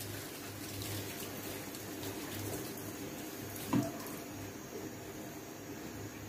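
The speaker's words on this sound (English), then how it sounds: "we're just going to throw off the excess water" Excess water poured off a pot of boiled Jamaican renta yams, a steady broadband rush of draining water with one brief splash or clatter midway, no talking.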